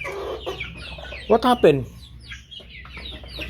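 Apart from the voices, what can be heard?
chickens clucking after one escaped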